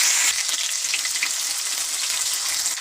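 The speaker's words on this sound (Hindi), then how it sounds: "हमने इसमें डाल दिया ऑयल, अब हम डालेंगे ज़ीरा, ये गया ज़ीरा" Cumin seeds sizzling in hot oil for an Indian tadka, a steady bright crackling fry that runs throughout, close up with no talk.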